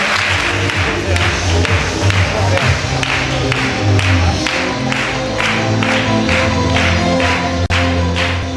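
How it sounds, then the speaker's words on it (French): Audience applause at a conference, a dense sustained clapping from a crowd filling the room, loud and continuous with some cheering mixed in. "Tu peux les applaudir."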